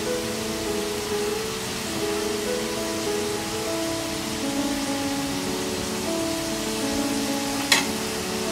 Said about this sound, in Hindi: और इसमें टमाटर फ्राई होने तक हम इसे धीमी आंच पे कुक करेंगे